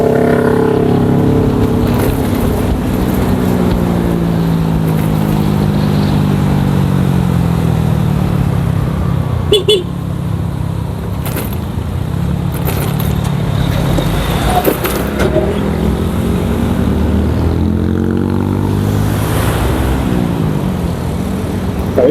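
A motorcycle rides along and overtakes traffic, its engine a loud continuous drone that rises and falls in pitch, with wind rush and passing vehicles whooshing by.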